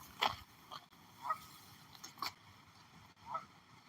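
Several short honks from a family of geese, two adults and three goslings, sound at a distance, scattered irregularly over faint background noise.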